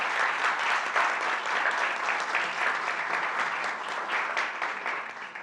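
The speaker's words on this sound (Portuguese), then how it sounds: "queria uma salva de palmas aqui para todo o time da SMA" An audience at a Consumer Day tribute event for a Brazilian company team gives steady, dense clapping that holds for several seconds and tapers slightly at the end, with no voices rising above it.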